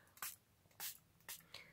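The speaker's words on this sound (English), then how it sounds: "And I'm just going to spray a bit of water onto this." Water spritzed from a spray bottle onto a wet-media stamping block for card making, four short hissing bursts in quick succession, close and fairly quiet.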